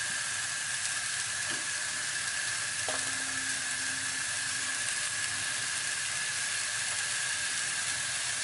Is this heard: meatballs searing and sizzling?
yes